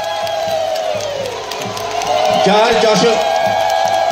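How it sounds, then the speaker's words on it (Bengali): A crowd at a chief minister's ceremony in Karimganj, Assam, breaks into cheering and scattered clapping beneath an amplified announcer's voice. The cheering swells louder in the second half. "মাননীয় মুখ্যমন্ত্রীকে হাততালির মাধ্যমে স্বাগত জানান।"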